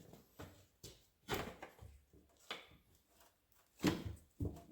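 A door panel being pried loose on a 7.3 Powerstroke truck salvaged from the dump: repeated knocks, thumps and scraping rattles at close range in an irregular rhythm, with no talking.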